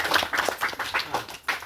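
Audience applause at a state Junno award ceremony on New Year, a steady run of clapping from a crowd at moderate level with voices faintly mixed in.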